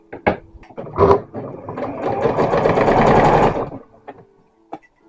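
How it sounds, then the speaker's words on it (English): Sewing machine running a straight stitch on fabric for pillow shams, a steady mechanical whir that builds for a few seconds after some clicks and handling at the start, then stops, leaving a few light knocks. "this is one of my mother's sewing machines"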